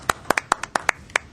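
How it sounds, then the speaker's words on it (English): A small group at a city historic preservation commission meeting claps briefly after a unanimous vote, about eight distinct sharp claps at an uneven pace, close and clear with no talking. "Everybody clap."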